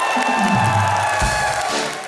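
A comedy show studio audience claps and cheers loudly for about two seconds, a dense crowd roar with a voice or music briefly heard underneath.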